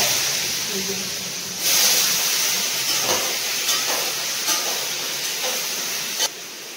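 Hot oil spatters in a pan during cooking, making a continuous loud hiss with scattered sharp pops and crackles, while a person talks nearby.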